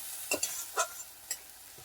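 Ginger garlic paste being stirred in a frying pan for a fish curry, with a few distinct scraping strokes over a faint steady sizzle.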